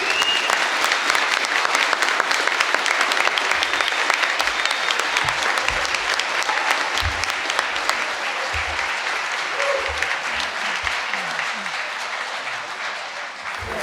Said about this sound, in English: I lift my ban on applause so that we can thank all the candidates who came tonight